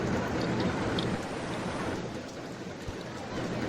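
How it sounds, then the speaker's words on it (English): Steady rain ambience in the RollerCoaster Tycoon video game, a continuous even hiss of falling rain with no breaks, at moderate level. "Especially when it's just raining this much."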